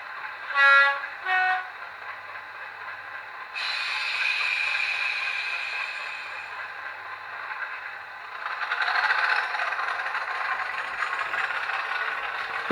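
Model locomotive's sound playing through its standard onboard speaker: two short horn blasts at the start, then steady running and rail clatter that swells and fades close by.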